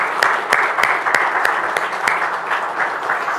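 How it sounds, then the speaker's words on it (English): A small crowd at a conference claps steadily, with a few sharper individual claps standing out, fairly close and loud. "give this gentleman a very, very warm round of applause"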